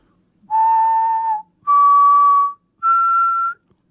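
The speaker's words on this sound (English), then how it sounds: "you just need to activate your microphone and you can whistle like" A person whistles three long, clean, sustained notes into a microphone, each rising a little in pitch like a simple major triad, loud and close, with short silences between them.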